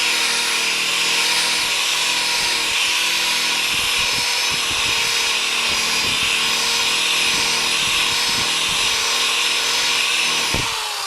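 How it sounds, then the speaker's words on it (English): An orange buffing ball on a drill polishes metal with Flitz in a garage, giving a loud, steady motor whine that runs unbroken throughout, with faint knocks and bumps underneath. "sitting out in the garage with this buffing ball and enjoying some buffing time"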